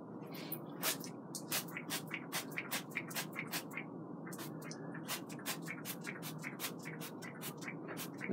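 Repeated short hissing bursts of cooking oil spray onto a waffle iron, fired in quick irregular pulses over a steady sizzling background.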